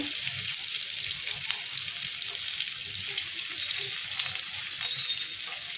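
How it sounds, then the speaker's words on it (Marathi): Paneer cubes fry over medium heat in a pan, giving a continuous hissing sizzle with a few soft stirring touches, close and fairly even throughout. "तर बघू आता आपण हे पनीर परतून घेऊया."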